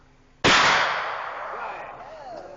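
A single loud shotgun volley, fired together as part of a 21-shotgun salute at a memorial, cracks sharply and then rings out in a long fading echo across open ground.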